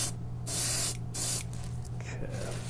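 Short bursts of aerosol UV body paint sprayed into a garbage can, three hissing sprays of about half a second each, close and fairly loud, separated by quieter pauses over a steady low hum.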